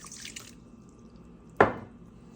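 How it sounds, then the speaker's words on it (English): A short pour of water splashes into a bowl of sugar and instant active yeast while mixing pizza dough: one brief, close splash after a quiet pause, with no talking. "add a little water."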